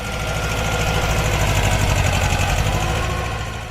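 A Kubota compact tractor engine runs steadily at a close, even idle, its rapid rhythmic knocking chug holding at a constant level for a few seconds with no voices.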